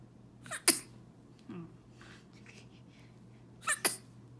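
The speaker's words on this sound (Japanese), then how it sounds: "くしゃみした。" A three-day-old newborn sneezes twice, soft and close, with tiny breathy sounds between the sharp bursts near the start and end, over a quiet background.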